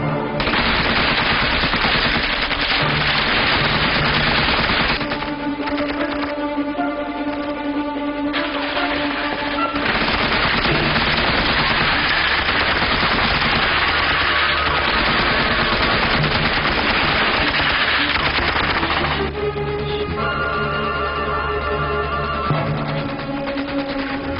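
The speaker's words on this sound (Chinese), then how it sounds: "命令各火力点随意射击" Sustained bursts of machine-gun fire from several gun positions shooting at will, loud and close, with rapid rattling volleys that pause briefly and resume across the whole stretch, dense and continuous with no voices.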